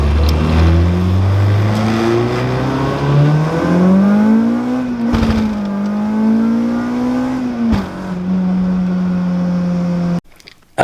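A car fitted with a competition clutch accelerates hard in a pull, its engine note climbing steadily, easing briefly, then rising again before cutting off abruptly near the end; loud and close, with no talk.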